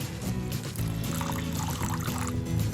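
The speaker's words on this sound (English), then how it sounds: "Pour water into the bowl until the chestnuts are fully submerged." Water poured steadily into a bowl of chestnuts, a continuous close splashing trickle with bubbling and sloshing throughout, no voices.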